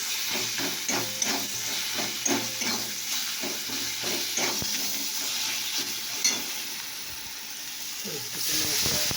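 Water poured into a hot cooking pot hisses and steams with a broad, steady sizzle, punctuated by a few clinks and stirring sounds, with faint voices in the background.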